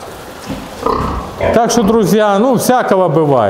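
Pigs in a pen squeal loudly and grunt, shrill rising and falling cries overlapping close by, while someone talks over the noise.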